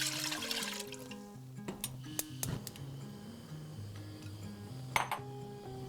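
A short splashing pour of chicken broth into a pot, followed by a few light clinks, under quiet background music.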